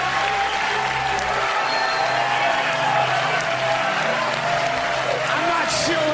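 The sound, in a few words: audience applause at end of stand-up show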